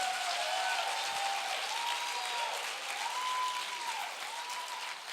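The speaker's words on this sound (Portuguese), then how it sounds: "Dê um aplauso ao Senhor" Congregation applause during a Sunday church service, a steady, even wash of clapping that is fairly faint and distant, with a sustained tone, likely music, running beneath it.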